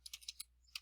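A handful of crisp, close keystrokes tap out a search on a computer keyboard, five or six quick clicks with a short pause before the last one.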